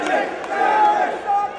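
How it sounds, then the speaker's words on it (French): A wrestling crowd chants a wrestler's name in unison, a dense loud roar of many voices rising and falling in a short rhythmic chant, with no commentary over it. "La foule qui crie P.T."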